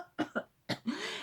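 Several short, sharp coughs in quick bursts, close and fairly loud, followed by a raspy breathy catch at the end.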